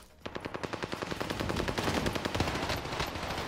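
Automatic gunfire in Warzone, a fast regular string of close shots that builds into a dense, continuous roar, heard on its own without talk.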